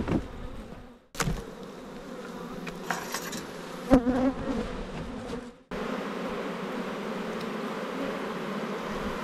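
Honeybees buzz steadily inside an opened, long-uninspected abandoned hive, a close, continuous hum with a few brief handling knocks and a short drop in the sound partway through.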